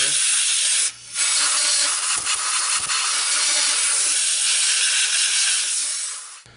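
Compressed air blasts loudly and steadily at close range to blow out scope mount parts, a continuous hiss broken only by one brief gap.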